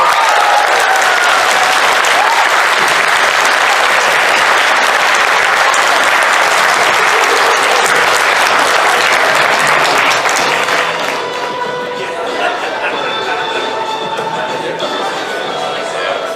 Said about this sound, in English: Everybody give James a massive round of applause.